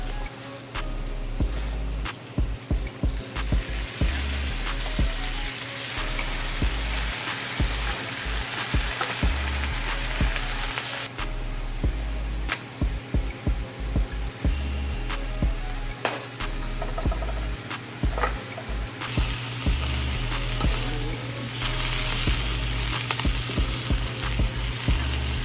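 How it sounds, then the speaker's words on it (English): Collard greens frying in vegan butter in a pan, loud and close with a dense, continuous sizzle, broken by repeated sharp clatters of stirring throughout, and no talk. "I'm gonna go ahead and add my collards."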